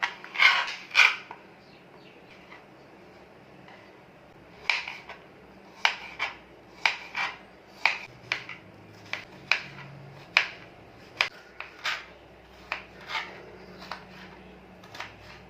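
A knife cuts a ridge gourd into pieces, giving a sharp burst of taps at first, then steady, evenly spaced cutting knocks nearby, each short and crisp against a quiet background.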